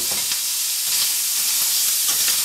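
Onion and garlic frying in sausage juices in a hot pan, giving a loud, steady close sizzle with faint stirring scrapes underneath and no talk.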